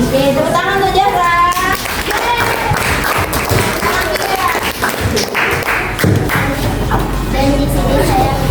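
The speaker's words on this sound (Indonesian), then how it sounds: "Oke, tepuk tangan untuk Jahra." A classroom of children at a school activity claps together in a dense burst, loud and close, with kids' voices and chatter mixed through the applause.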